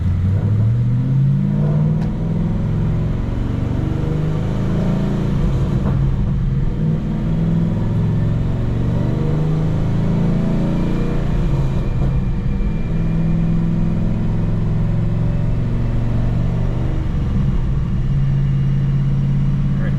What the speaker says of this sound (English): I'm going to rev the car out